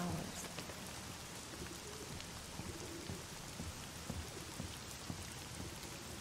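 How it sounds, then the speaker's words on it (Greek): Steady rain falls outside an upstairs apartment above a funeral home, a dense, even hiss of drops on surfaces with faint scattered patters, continuous and moderately quiet throughout with no talk. "Ακούει τη βροχή."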